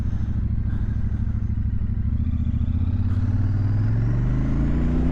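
A 2024 Royal Enfield Super Meteor 650 motorcycle engine thrums steadily up close while riding in chilly weather, its pitch climbing gradually toward the end, with a constant low rumble and no talking.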